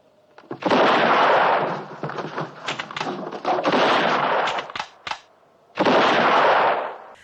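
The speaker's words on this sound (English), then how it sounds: "He taunts Django by shooting at him." Gunfire from a scene in the 1966 western film Django rings out loud and close, with several long roaring, echoing blasts and shorter sharp cracks between them.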